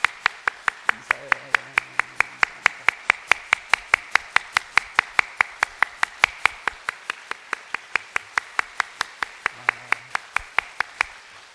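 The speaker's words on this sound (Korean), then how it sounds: "15초 박수" Steady rhythmic clapping from a church congregation, sharp evenly spaced claps continuing for about eleven seconds, with a brief murmur of voices underneath at moments.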